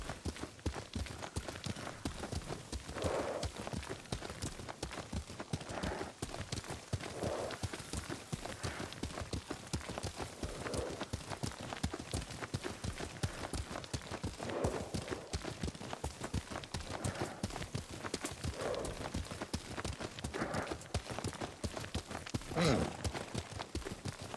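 A horse gallops in the video game Ghost of Tsushima, its hooves pounding in a rapid, steady rhythm through the whole stretch, heard faintly with the rider's occasional breaths and grunts.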